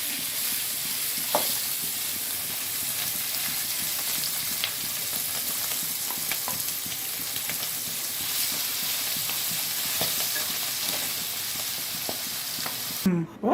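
Masala for Chettinad prawn gravy sizzles steadily in oil in a pan, a constant close frying hiss with occasional stirring clicks and scrapes.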